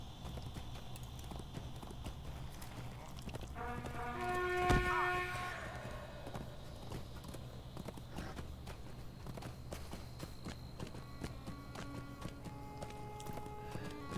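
A horse walks at night, its hooves clopping in a steady, moderately close rhythm. The horse needs new shoes. One short whinny or neigh rises midway.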